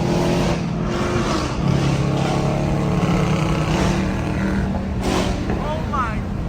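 A catless Dodge Charger R/T engine revs loud and close during a highway drive, with a continuous roaring drone rising and falling, while people talk excitedly over it.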